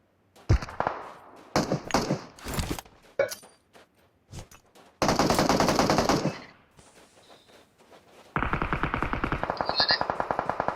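PUBG Mobile gunfire on the Miramar map crackles in sharp bursts, single shots and echoing volleys, ending in a long rapid automatic burst; no talking.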